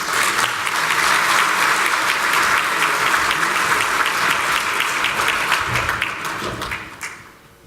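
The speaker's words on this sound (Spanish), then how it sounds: "Recibamos con un gran aplauso al señor Humberto Peña" At a university infrastructure seminar, an audience greets a speaker with a full round of sustained, dense applause that holds strong, then tapers off and fades out over the last second.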